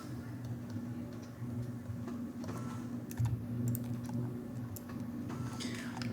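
Numbers keyed into a calculator for a natural-log calculation, with a series of light, irregular button clicks and taps over a low steady hum, close and fairly quiet, no speech.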